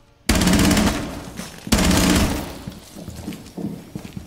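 Shotgun blasts in the shooter game Rainbow Six Siege, two loud, close booming shots about a second and a half apart, each followed by decaying rumble and softer clatter.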